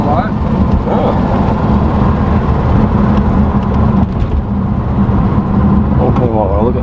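A Holden VXSS with an LS1 engine accelerating hard in first gear, a loud continuous engine roar from inside the car with voices talking over it.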